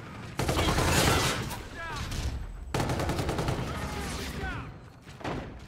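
A favorite gun in Infinite Warfare fires long, loud rapid-fire streams with short gaps between them, set against game combat noise and close up.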